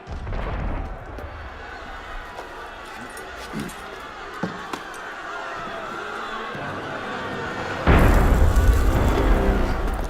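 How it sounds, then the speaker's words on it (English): A deep boom lands amid a low rumbling soundscape in Assassin's Creed Unity, followed by a sudden louder burst of noise near the end, like distant cannon fire. "That was cannon fire."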